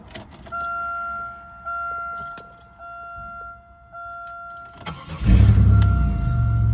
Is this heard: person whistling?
no